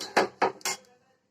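Dishes clink as cooked breakfast food is moved onto a plate: three quick, bright metallic taps in close succession, near and clear, then quiet.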